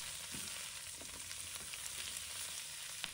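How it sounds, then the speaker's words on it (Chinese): Chinese broccoli (gai lan) stems and leaves stir-fried in a wok over high heat give a steady, close sizzle, with faint scraping and tossing clicks scattered through it. "再把叶子放入锅中，继续翻炒，让芥蓝的每一片叶子和菜梗都能均匀受热"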